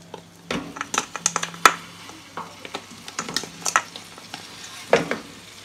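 Jaggery pieces stirred in a pan over a low flame, with irregular scraping and tapping of a spoon against metal and a faint sizzle between the strokes, close and fairly quiet.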